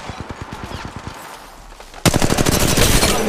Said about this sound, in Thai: กำลังยิงโจมตีศัตรู